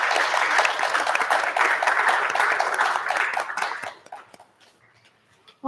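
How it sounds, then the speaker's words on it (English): A campus audience gives guests a round of applause: dense, steady clapping that carries for several seconds, then thins out and fades to near silence with a few scattered last claps. "a huge thank you and a round of applause for y'all"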